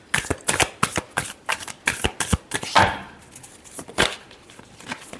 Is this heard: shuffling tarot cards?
yes